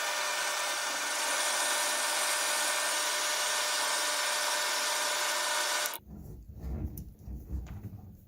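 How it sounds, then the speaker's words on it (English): A metal lathe turns a workpiece with a steady, loud whir that runs for several seconds and then cuts off abruptly, leaving quieter shop rumble and faint clatter. "I'm going to start the lathe and move in"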